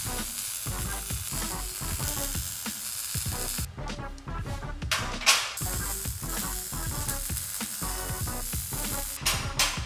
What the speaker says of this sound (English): Weld the reinforcement together using the round bar as a guide so it can move freely after welding.